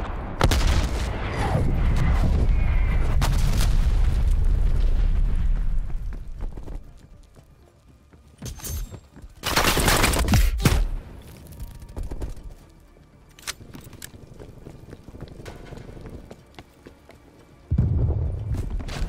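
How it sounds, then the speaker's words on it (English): Artillery strikes in Call of Duty: Black Ops Cold War: loud, booming blasts arrive in a few separated bursts, with quieter rumbling and battle noise between impacts. "Artillery inbound."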